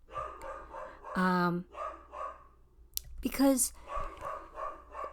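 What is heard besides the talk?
dog barking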